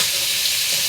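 Kachki fish fry in a pan with a steady, close, soft crackling sizzle and hiss that runs without pause through a brief stretch, with no voices.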